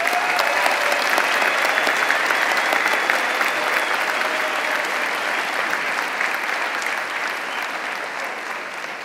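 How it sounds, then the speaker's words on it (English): A crowd at a Coastal Carolina University honors convocation gives honor graduates a loud, continuous round of applause, dense clapping with faint cheers that holds steady and eases slightly toward the end. "Let's give them another round of applause."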